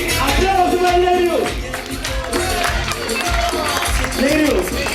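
Studio audience applause greets a guest on a variety TV show, loud sustained clapping mixed with crowd noise, music and an announcer's voice shouting over it.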